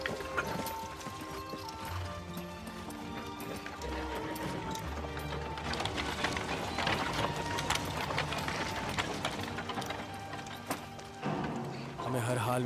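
Horses' hooves clip-clopping in a busy stable yard during a war-era battle scene, with steady overlapping hoof beats, occasional whinnies and people talking over the commotion.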